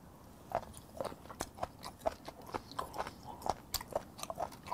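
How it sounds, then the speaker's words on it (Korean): Close, quiet chewing of raw spoon worm (gaebul) seafood: a steady series of soft, crunchy, rubbery bites and mouth sounds at a regular rhythm, with no talking. "이 개불은 삼키고 싶지가 않아. 씹다가 입 안에 계속 좀 맴돌았으면 좋겠다"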